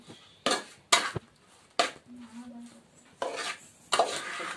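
Prawns hit a pan over a wood-fired stove in a Malvani kitchen, giving a series of sharp clanks and scrapes as they are tossed and stirred, with faint sizzling between the strikes.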